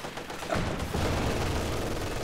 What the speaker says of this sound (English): Nice incendiary rounds from the MG42.